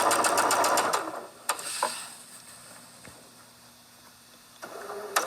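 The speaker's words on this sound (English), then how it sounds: "she's just gonna sew one of these little squares on both of these." A sewing machine stitches quilt squares in a steady rapid burst, then stops; a few soft handling clicks and a brief restart of stitching follow near the end, close and fairly loud.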